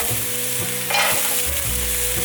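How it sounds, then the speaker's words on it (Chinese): Shiitake mushrooms stir-fry with shredded carrot in a hot pan, giving a loud continuous sizzle with a brief flare of hissing and occasional spatula scrapes. "香菇炒香后，放入红萝卜丝"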